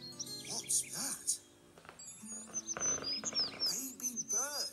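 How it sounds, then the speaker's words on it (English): Baby birds in a fallen tree chirp in quick, high bursts of tweets, fairly close and clear, alternating with short stretches of quiet. "Baby birds."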